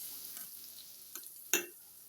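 Cumin seeds hit hot oil in a simple tempering for coconut chutney, giving a quiet background sizzle with a few brief crackles and one sharper hiss near the end.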